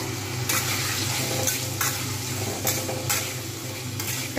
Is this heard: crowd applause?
no